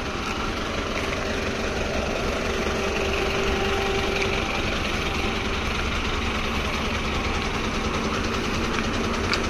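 Autos and lorries idle in a traffic jam at the Shiradi Ghat landslide. Their engines blend into a steady, rumbling drone with a faint tonal whine, close and constant without a break.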